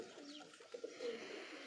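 Pigeons cooing on a rooftop in Mianwali, a few short, soft coos near the middle against faint steady background noise, quiet and somewhat distant.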